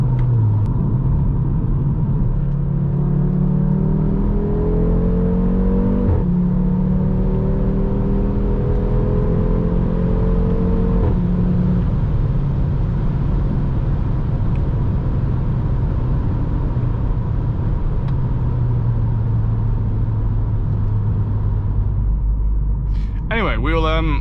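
An Audi RS3 8P fitted with a Milltek exhaust drives along a bumpy road, its five-cylinder engine droning and rising through gears with a deep rumble, while people talk inside the car over the steady engine and road noise.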